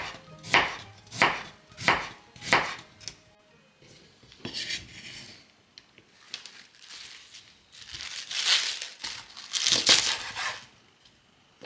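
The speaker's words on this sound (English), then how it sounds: "Cut carrots slightly thinner to improve the heat." A knife chops carrots on a cutting board with four loud, evenly spaced thuds, then softer scattered cuts, rustling and handling noises follow.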